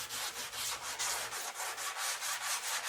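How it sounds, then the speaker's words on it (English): Hand sanding of 2K epoxy primer on the body of a 1970 Dodge Dart Swinger, a steady rhythmic rasp of back-and-forth strokes, close and continuous with no talking. "this stuff is sanding real smooth and easy"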